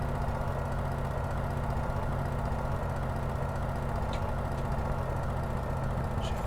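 A Hawker Hurricane Mk1 engine throttled back in a flight simulator hums as a steady, dense drone with a low rumble, constant in level and alone throughout.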